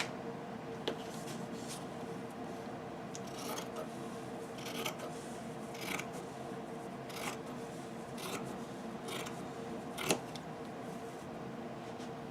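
Scissors cutting paper for a baby girl folio: quiet, repeated crisp snips and rustling over a steady low background hum, faint and close.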